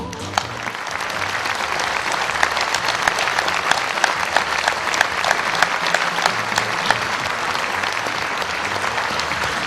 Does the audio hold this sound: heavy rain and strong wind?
no